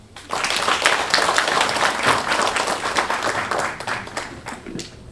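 Audience clapping at a university launch ceremony, a dense burst of applause that starts abruptly, holds steady and thins out toward the end, with no voices.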